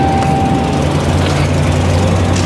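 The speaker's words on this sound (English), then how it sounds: "We got a running vehicle now." A vehicle engine runs steadily after starting, a loud, close, low rumbling idle with a constant drone and no speech over it.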